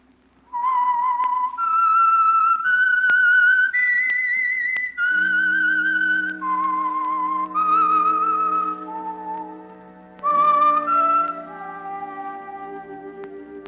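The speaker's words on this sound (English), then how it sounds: "That whistle is your signal for the Signal Oil program" Someone whistles a slow, clear melody of sustained notes as a 1946 radio program signal, loud and close, with a low accompanying tone underneath in the second half.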